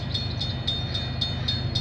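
A CN or CP freight train approaches in Milton, Ontario, with a steady low rumble and regular clicking beats from the wheels on the rails, heard at a moderate distance for under two seconds.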